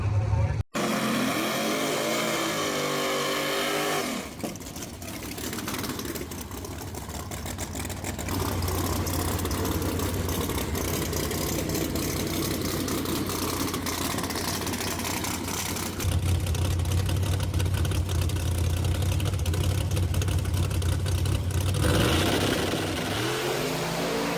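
A boosted race car makes a pass at the drag strip, its engine roaring loud and steady with shifts in pitch, heard from nearby over a long stretch.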